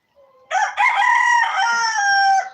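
A rooster crows loudly and close by in a farmyard flock of chickens, one long drawn-out cock-a-doodle-doo after a brief lead-in note, with nothing else around it.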